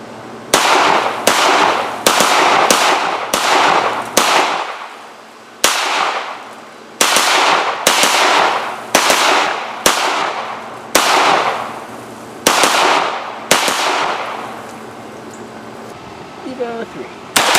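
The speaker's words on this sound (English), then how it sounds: "just testing this gun, and then cut back here to the talk part. Scorpion Evo3" A CZ Scorpion Evo3 firing outdoors, loud sharp reports in quick pairs and short strings, about a dozen shots each followed by a ringing decay, with short gaps between groups.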